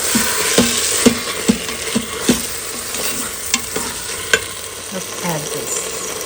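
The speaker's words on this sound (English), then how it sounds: "Saute it for about 2 minutes" Chicken breast pieces sauté for a chicken curry in an Instant Pot: a steady close sizzle with irregular knocks and scrapes of a spoon stirring against the pot.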